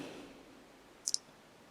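Two quick, faint computer mouse clicks in close succession, otherwise near-silent room with no talking.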